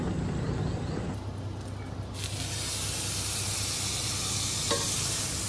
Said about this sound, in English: definitely sizzling now